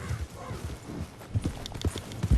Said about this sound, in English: Oh, it's a carriage. It's a stagecoach of sorts.